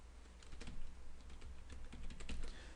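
Steady, fairly close typing on a computer keyboard as a phone number is entered, a run of light key clicks in uneven bursts with no voices.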